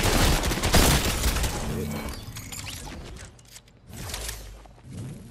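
Rapid automatic gunfire bursts from a Fortnite match, dense and loud at first then thinning into scattered shots and mechanical clatter, with a brief lull before renewed firing.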